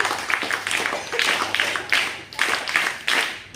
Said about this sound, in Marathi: टाळ्या यांच्यासाठी